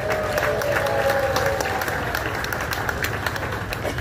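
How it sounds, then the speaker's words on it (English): Audience applause for a group of deputies at a recreated Old West street show, steady clapping from a crowd with some background noise, continuous throughout. "Let's give them a nice big round of applause, folks."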